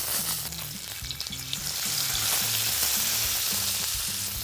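Salmon sears in an enamel cast iron pan, giving a loud, steady frying sizzle that swells slightly and holds continuously with no talking.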